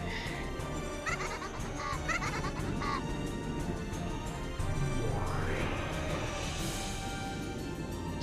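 Goat bleating in the Umineko When They Cry visual novel, a quavering cry heard a few times over busy background music, fairly faint in the mix, followed by a rising sweep effect.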